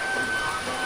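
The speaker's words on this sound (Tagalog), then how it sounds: "Ito yung ulan na sobrang tagal mawala talaga" Light, steady rain comes down in a soft, even hiss, close and unbroken through the brief moment.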